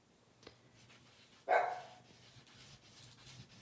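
A single dog bark sounds once, fairly faint and a little distant, amid a quiet room.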